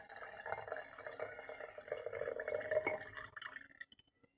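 Soil solution poured from a container into a one-litre glass jar, a close gurgling trickle of liquid lasting a few seconds before tapering off into last drips.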